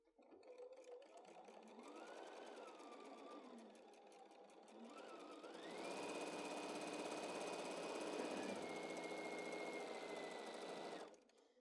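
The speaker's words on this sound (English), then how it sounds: "Okay, I'm going to sew this. Let's go to the machine." A sewing machine stitches fabric in steady whirring runs, its motor pitch rising and falling, then holding a higher, faster buzz before stopping abruptly.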